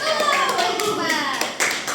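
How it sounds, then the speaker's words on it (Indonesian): Children clap their hands together in a classroom, a short burst of rhythmic claps mixed with lively young voices talking over it. "Tepuk lagi."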